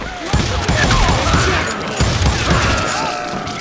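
Dense gunfire in a frontier town street in the video game Call of Juarez Gunslinger: a continuous close, loud barrage of overlapping shots and impacts that holds steady throughout and eases slightly at the end.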